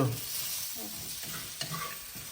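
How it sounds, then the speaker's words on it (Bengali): Potatoes fry in hot oil in a home kitchen with a steady close sizzle, broken by occasional stirring scrapes, and no voices. "আলু ভাজ্য"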